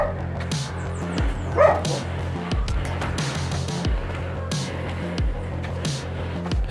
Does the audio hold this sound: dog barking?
yes